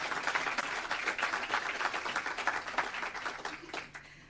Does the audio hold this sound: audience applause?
yes